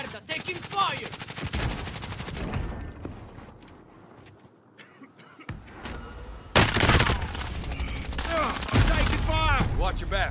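Automatic gunfire in Call of Duty Warzone: dense, loud machine-gun bursts at the start, a quieter stretch, then renewed heavy rapid fire with a sharp burst partway through, as speech comes in over the shooting.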